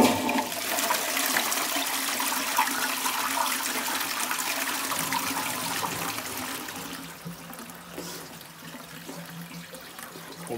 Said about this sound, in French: je vous tire la chasse et c'est parti